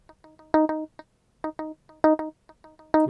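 A software Stratocaster guitar plays a short, funky lick with no amp, giving dry, clean plucked notes in a choppy rhythm with brief gaps, heard close and alone.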